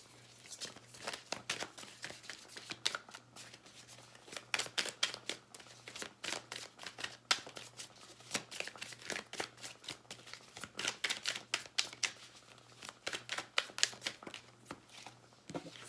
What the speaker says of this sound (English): Let's pull 6 oracle cards, and then we'll start pulling some tarot.